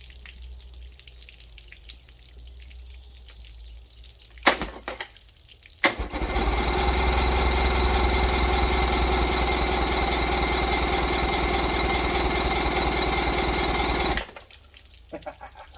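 Mercury 50hp outboard motor cranking with a couple of sharp pops, then catching and running steadily for about eight seconds at a loud, even drone before cutting out.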